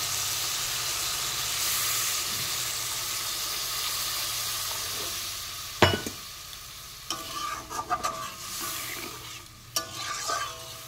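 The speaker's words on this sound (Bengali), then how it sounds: "এবার আমি দিয়ে দেবো জল" Water hits a pan of fried spices and vegetables in oil for a small-fish curry, bursting into a loud sizzling hiss with sharp spatters and clatter, no one speaking.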